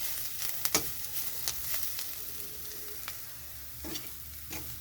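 Teuri greens and potato frying in a pan, a steady close sizzle broken by several sharp scrapes and clacks of a spatula stirring, with no talking.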